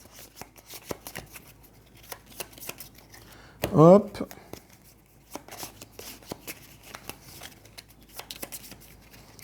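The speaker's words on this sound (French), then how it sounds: "je vais les mélanger tout de suite, les cartes" A deck of cards riffle-shuffled during a solo tabletop card game: one short, crisp fluttering burst in the middle, surrounded by light clicks and handling taps, with a brief spoken word nearby.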